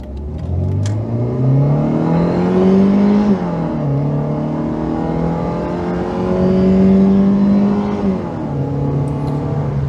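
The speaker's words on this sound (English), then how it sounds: "this engine does sound quite coarse compared to the overall refinement of the rest of the car" A Mercedes-Benz 190E (W201) engine revs hard and climbs through all four gears, with clear pitch drops at each shift. The sound is loud, steady and coarse, with no voices.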